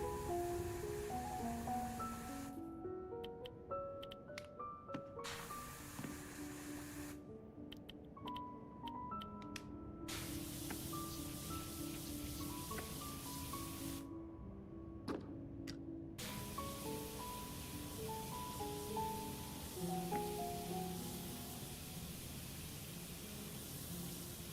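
Steady broadband hiss of a pressure washer spraying water in the video game Powerwash Simulator 2, running continuously for the whole stretch with background music playing on top.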